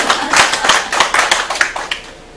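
Workshop attendees at a resistance training and body composition session give a presenter a short round of applause: a quick burst of close, lively hand claps that tapers off after about two seconds.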